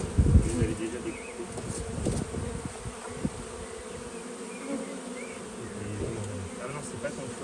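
Honeybees buzz around two newly installed hives in an apiary, a steady close drone with individual insects passing near and occasional muffled voices in the background.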